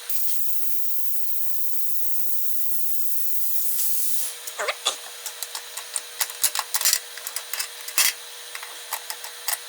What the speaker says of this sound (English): I think it's this relief valve right here is leaking at the top.